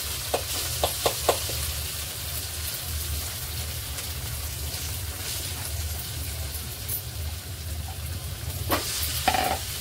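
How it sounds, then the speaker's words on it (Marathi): Mashed potato filling for samosa frying and being stirred in a pan, with a steady sizzle throughout and a few sharp scrapes near the start and end, close and without talk. "हे चांगलं फ्राय करून घ्यायचं आहे चांगलं। मग याच्यात टाकायचं आपण मॅश केलेला हा बटाटा"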